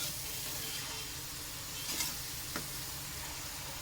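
Onions fry in a pan for lobia masala, giving a quiet, even sizzle with two brief scrapes of a stirring spoon partway through; no voices.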